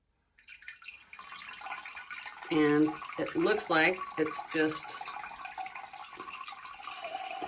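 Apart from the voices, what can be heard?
water spraying from non-electric bidet nozzle during cleaning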